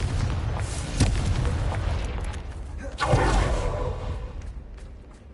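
A Confringo blasting curse in the video game Hogwarts Legacy, two heavy booming blasts about two seconds apart, each with a rumbling, crackling tail over a constant low game background.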